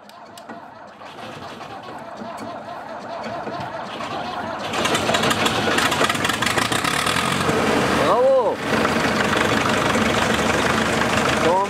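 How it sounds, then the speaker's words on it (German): A 1960 CLAAS SF combine's Perkins engine cranks over and catches, settling into a loud, steady diesel run with a brief dip in the middle, heard close by. "Der Perkins-Motor wird gestartet."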